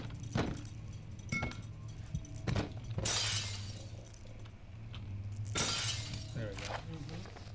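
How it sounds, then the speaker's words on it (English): Glass shattering in a video game, two loud crashing bursts with a bright spray of shards a few seconds apart, over a low steady hum and soft background sounds. "Do I have to break this glass?"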